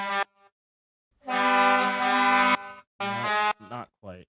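Hockey goal horn sounds for the ECHL played back at close range: several loud, sustained harmonic horn blasts, the longest running more than a second, followed by shorter bursts and a few wavering, bending tones, with no speech.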